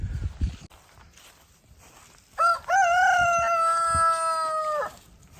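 A rooster in a greenhouse gives one loud, drawn-out cock-a-doodle-doo close by, preceded by soft rustling and footsteps among the chickens.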